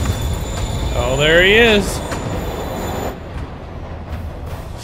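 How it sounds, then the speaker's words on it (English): A moving train in the Spider-Man PS4 video game rumbles steadily with a rising metallic screech over it, while someone speaks briefly above the noise. "Train moving. Lee's getting away."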